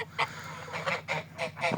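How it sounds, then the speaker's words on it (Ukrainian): Greylag geese honking close by, a series of about five loud, nasal honks in an irregular rhythm over a low background hum. "Ось ще одна стара гусиня прийшла."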